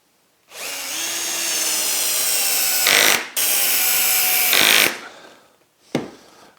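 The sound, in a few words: power drill driving screws into wood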